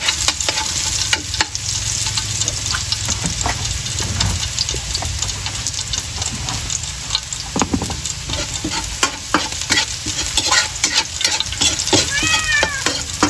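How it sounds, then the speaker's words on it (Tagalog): A pet cat meows now and then in a home kitchen while crab and garlic cook, with stirring and frying sizzle running throughout; the meows are brief and partly buried under the cooking clatter. "Ngaw-ngaw ka na naman."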